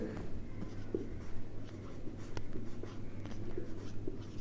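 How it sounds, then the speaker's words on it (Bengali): Pen writing by hand on paper during an accounting lesson, a soft, close, continuous scratching with small strokes and taps over a low steady background hum. "তো এই জন্য আমি লিখব"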